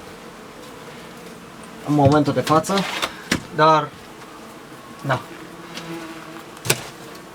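Wasps buzz faintly inside a truck on a beekeeping outing, a thin steady drone beneath someone speaking Romanian in short bursts, with a few clunks.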